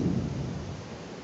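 Severe gale-force winds of Storm Dudley in Surrey, UK, 2022, a continuous loud, heavy rumbling roar that buffets the microphone and fades slightly, with no voices.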